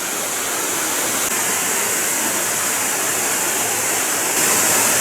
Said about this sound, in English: there's a lot more water coming down the falls